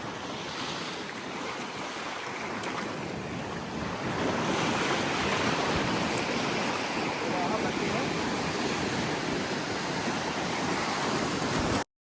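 Ocean waves break continuously on Pondicherry beach, a steady, loud wash of surf with buffeting wind noise on the microphone, growing slightly fuller partway through.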